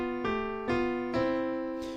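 Two melodic lines move in contrary motion, one rising as the other falls, heard as four clean, plucked-sounding tonal notes struck at an even pace and left to ring.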